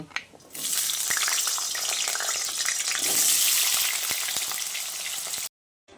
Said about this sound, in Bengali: এই আলুটা এবার এই তেলের মধ্যে দিয়ে ভেজে নেব।